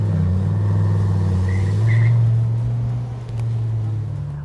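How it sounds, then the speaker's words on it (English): A car engine runs steadily while driving on the road, a low continuous hum with mild shifts in pitch, close and alone with no voices. "as long as we've got the engine running here, let's take this thing out on the road"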